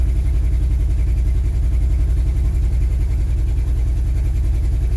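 A car engine idles steadily at around 1200–1500 RPM shortly after a rough cold start, a loud, even low-pitched throb with a regular pulsing rhythm and no talk.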